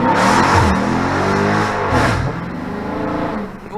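A loud Dodge Charger Daytona 392 V8 floored from a stop on the street, engine roaring close and rising in pitch through two surging revs before easing off slightly at the end, no voices over it.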